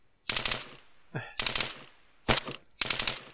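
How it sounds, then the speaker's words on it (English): Full-auto rifle fire in the video game Arma 3, four rapid bursts separated by short pauses, sharp and close. "And this is why I have the full auto rifle."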